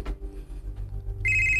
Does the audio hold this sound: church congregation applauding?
no